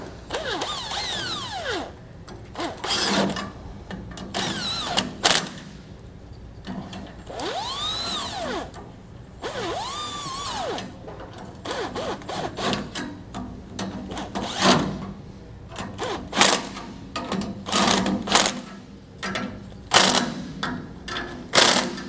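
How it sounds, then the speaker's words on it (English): An impact wrench snugs up the U-bolt nuts on a trailer axle with idler hubs, in repeated short bursts of whirring and rattling hammering separated by brief pauses, close and fairly loud, with no voices. "I'm going to come back with my impact to just snug them all up"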